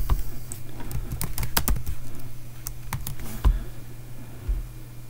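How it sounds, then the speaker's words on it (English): Fingers type a short word on a computer keyboard, a quick burst of crisp, close keystrokes clustered in the first few seconds, then a few isolated taps and a final key press before quiet room tone. "just type in that word Satan."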